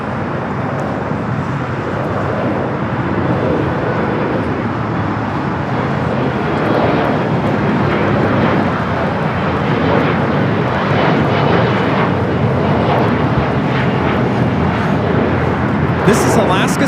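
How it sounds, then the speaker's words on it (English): An Alaska SkyWest Embraer E175 regional jet takes off from LAX runway 25 left for Las Vegas, a loud, steady broadband engine roar that holds close and constant throughout, with people talking over it. "3178 taking off to Las Vegas on the E175"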